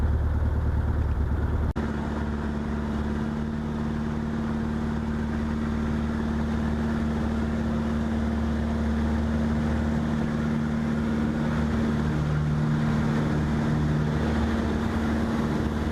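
Light aircraft engine running steadily at takeoff power at a fly-in airfield, a loud continuous droning hum with a steady pitch that holds for the whole span, no voices.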